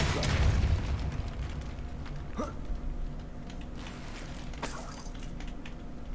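A Depulso spell is cast in the video game Hogwarts Legacy: a heavy thump with a deep rumble opens, followed by creaking, mechanical knocks and a sharp crack midway, all close and prominent.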